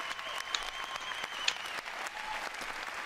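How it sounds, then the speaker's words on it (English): Audience at the Ubisoft E3 2018 conference clapping steadily for about three seconds, a dense, moderately distant wash of hands with a couple of sharper claps standing out. "clap or you'll fire us."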